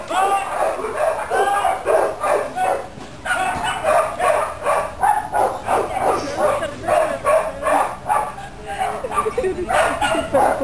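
A mixed-breed street dog barks repeatedly and protectively in rhythmic bursts, close and loud, with people talking and noise from a crowd around it.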